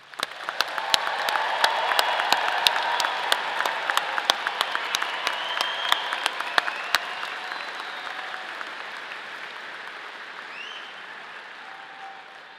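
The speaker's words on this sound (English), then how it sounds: "Please join me in a round of applause in congratulating these students on this happy" A commencement crowd at a college of engineering ceremony claps for graduates, with sharp nearby claps over a broad roar of applause that gradually fades toward the end.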